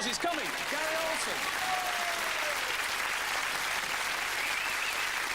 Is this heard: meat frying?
no